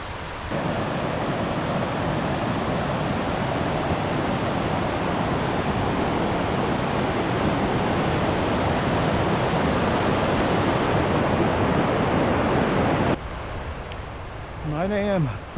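Rushing river water at a mountain river crossing in Jotunheimen, Norway, a loud, steady broadband roar that fills most of the stretch, then cuts off abruptly to quieter surroundings near the end.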